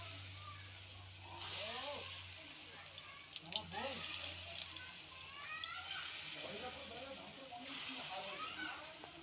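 Small fritters frying in hot white oil in a kadai give a steady, soft sizzle with scattered crackles and pops, running under a voice throughout.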